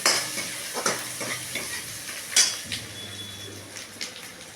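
Hing and ginger paste stirred in a hot pan, a spoon scraping and tapping the metal in an uneven rhythm over a soft, steady sizzle, close up with no talking.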